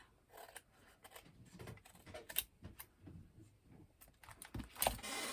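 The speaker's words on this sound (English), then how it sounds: "you don't have to cut the top off" Scissors cut through paper while ephemera are trimmed for a mermaid fairy journal, giving a series of close, crisp snips and rustles in an irregular rhythm, with no talk.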